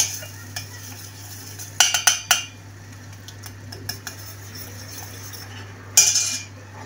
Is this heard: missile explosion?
no